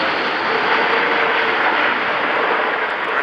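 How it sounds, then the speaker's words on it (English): An Airbus A400M military transport aircraft makes a full-configuration pass with flaps lowered at an air show. The engine roar is loud and steady, a broad, continuous rumble that holds for the whole stretch with no talk over it. "the flaps should be being lowered for the aircraft to come through in a full configuration pass"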